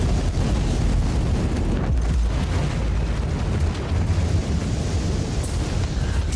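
Grenade blasts in the Warhammer 40K: Inquisitor - Martyr video game, a loud sustained roar of explosions with deep rumbling booms, and no talk over it.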